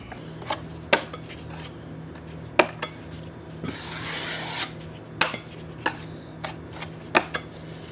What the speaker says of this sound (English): And we'll start pulling out that excess mud.